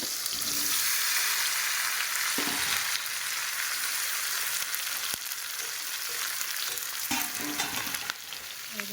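Sliced plantain and potato fry in hot oil left over from frying fish in a pan, a continuous close sizzle with a few louder crackling surges, no voices.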